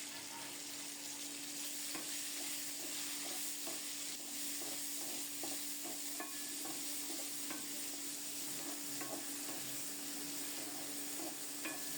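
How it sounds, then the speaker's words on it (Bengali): Chopped onion fries in a pan after black cumin seeds are tempered in hot oil, giving a steady, even sizzle and crackle with occasional light stirring scrapes, close and continuous throughout, with no talking. "এখন দেব কুচানো পেঁয়াজ। পেঁয়াজটা লালচে করে ভাজা হলে বরবটি দিয়ে দেব।"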